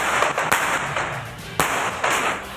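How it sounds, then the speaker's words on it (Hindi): Fireworks go off at a political victory rally celebration at Liberty Chowk in Lahore: a continuous crackling roar punctuated by two sharp, loud bangs, close and dense. "आतिशबाजी का मुजाहिरा"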